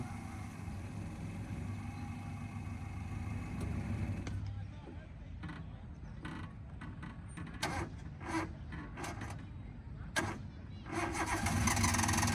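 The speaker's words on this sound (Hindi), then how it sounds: "इतने सेल्फ मारोगे तो बैटरी की माँ बहन हो जाएगी" A car's self-starter cranks the engine repeatedly in several short bursts, each a rough whirring churn, heard up close with someone talking between and over the attempts.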